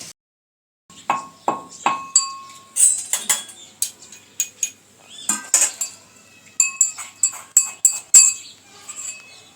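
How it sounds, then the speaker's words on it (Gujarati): Peanuts and gathiya pounded in a mortar in a village kitchen, sounding as a run of sharp, clinking strikes at an uneven pace, close and fairly loud, with no voices. "તો ગાંઠિયા અને સિંગદાણા આપણે ખાંડી લેવાનું છે।"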